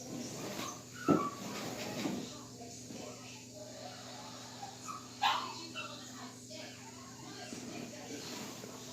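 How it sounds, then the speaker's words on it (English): A mother dog with newborn puppies gives faint whimpers and soft yips, with high tiny squeaks, under a low steady hum and a person's voice in the background. "My dog just had her puppies and she ain't experienced."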